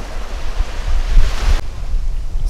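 Surf and wind roll along a beach at fairly high level, a steady broadband wash with low gusting rumble, easing slightly after the first half and continuing unbroken with no voices.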